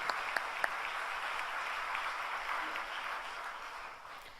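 A church congregation applauds at a Friday all-night worship service: faint, sustained crowd clapping with a few sharper individual claps at the start, heard from a distance.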